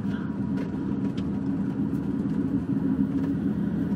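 A van drives along a high mountain road in the Andes of Peru, its engine and road noise forming a steady, muffled low rumble heard from inside the cabin, with a few faint knocks and rattles on top.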